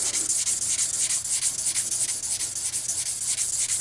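Continuous hand sanding of aluminum with sandpaper, a dry abrasive rasp in quick even back-and-forth strokes, close and loud for several seconds, with no voices present.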